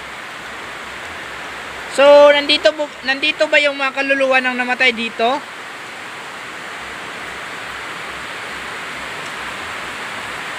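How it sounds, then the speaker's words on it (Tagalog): Heavy rain pours as a steady, loud hiss through an outdoor night exploration, with someone talking briefly over it before the downpour carries on alone. "Sobrang lakas pa rin ng ulan dito mga ka-idol."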